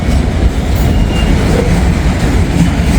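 A freight train rolls by close at hand on a curve, with steady rumbling wheel noise and faint clickety-clack, loud and continuous throughout.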